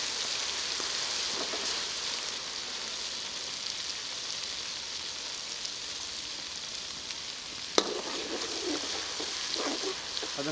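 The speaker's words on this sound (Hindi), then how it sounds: "इस मौके पे अदरक लहसुन का पेस्ट है मेरे पास, ये शामिल कर लेते हैं। इसे थोड़ा सा भून लेंगे।" Ginger garlic paste frying with golden onions in a karahi while cooking a quail karahi: a continuous close hiss of hot oil with occasional stirring scrapes and a sharp clank partway through.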